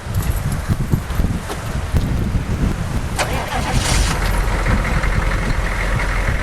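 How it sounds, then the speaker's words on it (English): A 75 Series Toyota Landcruiser V8 cranks and catches nearby, settling into a rough, continuous rumble, with a brief sharp clatter partway through and no talking. "I might even just start it up and just run it for a little bit."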